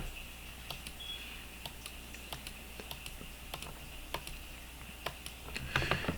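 A computer mouse clicks repeatedly while modeling in Revit software, a dozen or so sharp light ticks at uneven intervals over a low steady hum, with a short clatter of handling near the end.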